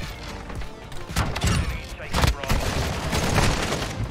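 Shotgun blasts in Modern Warfare 2 on the Shipment map ring out as several loud, sharp booms at irregular intervals amid constant battle noise, with a voice talking underneath.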